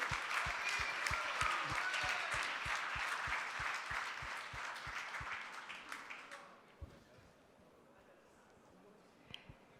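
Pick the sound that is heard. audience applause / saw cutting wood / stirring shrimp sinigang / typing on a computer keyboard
audience applause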